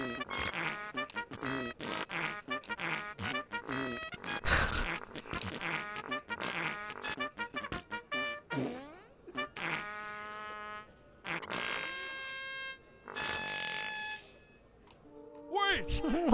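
A run of wet, buzzing fart noises comes in rapid stuttering bursts with pitched, squeaky tones, some long and drawn out, loud and close with brief gaps between them.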